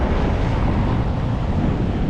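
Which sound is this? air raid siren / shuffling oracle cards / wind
wind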